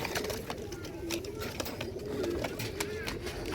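Pigeons coo steadily at a large pigeon farm in Latur, Maharashtra, their low, overlapping calls forming a dense, close chorus that runs the whole time.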